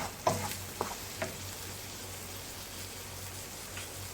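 A spoon stirring oregano into homemade pizza sauce in a pan, a faint simmering hiss with a few soft scraping clinks near the start.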